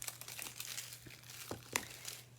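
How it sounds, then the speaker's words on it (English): Plastic wrap being cut and pulled off a new ink pad with scissors, producing quiet, close crinkling and small tearing rustles in short bursts. "I take my scissors and I just go into that little divot there to take the plastic away"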